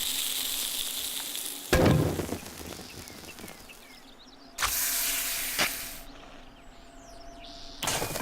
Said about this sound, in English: I am going to start some water boiling.